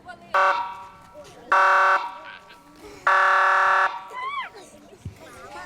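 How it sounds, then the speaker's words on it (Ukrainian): Three long, loud blaring blasts of a Ukrainian patrol police car's vehicle-stopping siren in Dnipropetrovsk, each about a second, separated by pauses, followed by a brief rising electronic whoop; nearby and piercing. "Це спеціальна сирена, яка допомагає нам зупинити автомобіль."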